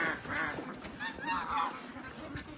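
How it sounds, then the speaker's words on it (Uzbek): Ducks or geese give loud, continuous honking calls close by, overlapping nasal cries filling the whole moment with no pause. "O'rdak chiqdi mana."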